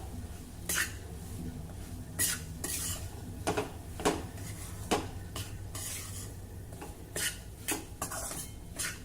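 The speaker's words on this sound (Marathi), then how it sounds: "तूप गरम झालं की त्यामध्ये रवा घालूया आणि अगदी मंद गॅसवर आता आपल्याला हा रवा खरपूस भाजायचा आहे।" Semolina is stirred and roasted in ghee in a pan over a low flame, with a soft sizzle under repeated clinks and scrapes of a spoon against metal at close range.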